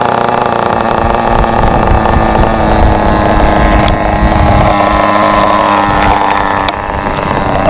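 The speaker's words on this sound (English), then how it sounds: "let's put the igniter here and let's start the engine." A Thunder Tiger SSR 4WD nitro RC car engine buzzes loudly and continuously, close up, with a rough, whining drone and no pauses.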